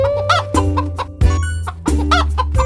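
Cartoon hens cluck in quick, close bursts, with several short calls following one another.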